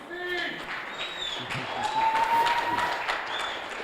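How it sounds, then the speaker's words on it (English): Applause at a cricket club T20 tournament draw event honouring the reigning champions, a moderate round of clapping from a gathered crowd, rising in the middle and tapering toward the end. "give them a round of applause"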